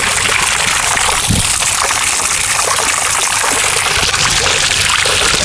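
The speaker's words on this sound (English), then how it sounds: "back to the fountain. I think you'll be able to pick up the sound here" Water splashes and trickles steadily from a rock bowl fountain, a loud, close, continuous hiss of falling water with no voices.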